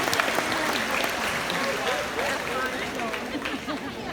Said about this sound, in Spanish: No sé si aplaudieron por las conchas